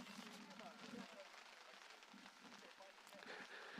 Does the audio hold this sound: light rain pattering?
yes